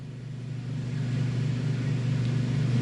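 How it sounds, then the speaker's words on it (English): Generators run across a neighborhood after a power outage, a steady low engine rumble that swells slightly in level and holds without break. "there's only one thing you hear, and that is the sound of generators"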